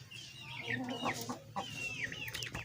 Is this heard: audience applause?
no